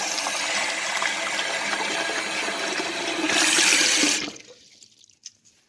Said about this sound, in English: So I'll fill up this pot with water.